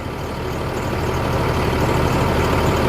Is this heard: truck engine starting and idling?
yes